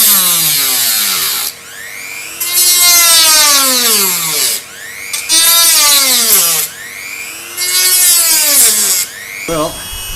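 A power tool whines through a wooden chopping board being cut into a guitar body, in repeated loud bursts that rise and fall in pitch, with brief pauses between cuts.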